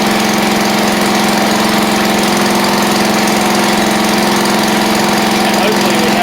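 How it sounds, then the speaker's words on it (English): The small engine of a John Deere LX176 lawn tractor idles loudly and steadily after being restarted, a constant droning hum with a faint knocking texture and no pauses. "crank it back up"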